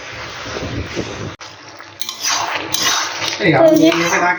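Pots, pans and utensils clatter close by in a home kitchen while potato chorchori cooks, with sharp metallic clanks and scraping, a brief pause, then louder clinks and knocks toward the end.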